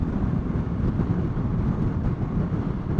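Wind buffeting a microphone on a Suzuki V-Strom 650 XT motorcycle in a steady low rumbling roar, loud and continuous, with no talking.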